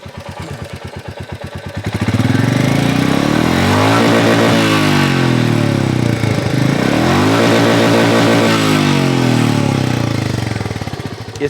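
A Royal Enfield Meteor 350 single-cylinder motorcycle with single exhaust thumps at idle, then revs up in two loud, throaty climbs and drops, close by and alone with no talking.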